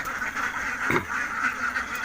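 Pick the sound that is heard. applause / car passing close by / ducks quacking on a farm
ducks quacking on a farm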